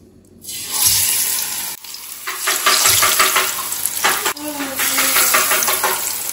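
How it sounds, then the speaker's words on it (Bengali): Fish frying in a pan on a home stove: a loud, continuous sizzle with clatter from stirring and utensils, plus brief water and tap sounds in the background. "আর এখানে মাছ ভাজা চলছে"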